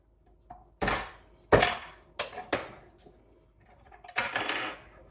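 Garlic cloves being crushed in a kitchen tool give a series of sharp, separate cracks and clacks, around half a dozen irregular hits, close and fairly quiet with silence between.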